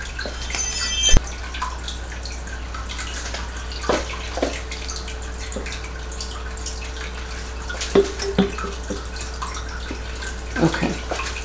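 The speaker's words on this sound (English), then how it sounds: "we are going to water this" Water poured onto a potted plant in a terrarium and plant-care setting, heard as soft trickling and scattered drips over a steady low hum, with a few sharper splashes.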